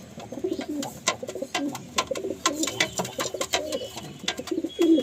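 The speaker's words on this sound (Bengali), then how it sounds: "হাতে থাকছে না পায়রাগুলো" Madrasi pigeons coo close by in a series of throaty, rolling calls that overlap and repeat steadily, with a few sharper clicks and rustles between them.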